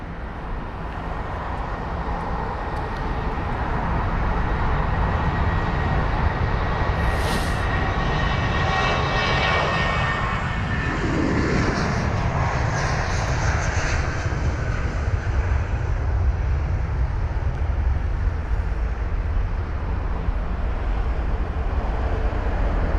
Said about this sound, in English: Now we've got a total of about 10 aircraft in the line waiting for the 27 right departures.